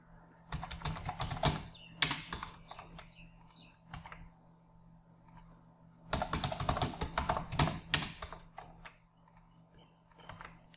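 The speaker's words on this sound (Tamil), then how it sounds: "சக்சஸ்ஃபுல்லாக டைப் பண்ணிட்டேன்" Someone types on a computer keyboard while filling in an online form, with two bursts of rapid, close clicking separated by a quieter pause and scattered single keystrokes.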